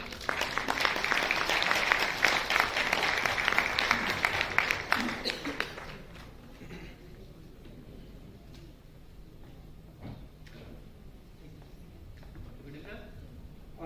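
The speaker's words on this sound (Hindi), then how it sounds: "एक बार सर के लिए जोरदार तालियां बजा दें।" An audience at a network-marketing training event claps loudly for a volunteer called onto the stage, dense applause for about six seconds before it fades to a quieter room.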